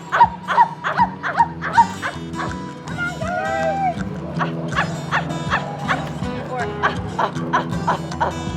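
A person imitates a chimpanzee food bark, a run of short, loud, rhythmic hoots and barks at a chimpanzee sanctuary. Real dog-like yips and other animal calls mix in, with some talk underneath.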